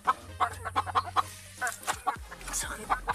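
Chickens in a coop on a rural farm give a run of short, rhythmic clucks up close, broken by a brief pause, with other low farmyard noises after.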